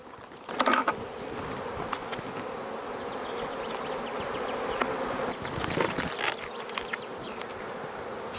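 A continuous close hum of honeybees fills the air as bees are cleared from a hive super at a spring apiary, with a brief sharp thump near the start and faint handling noise.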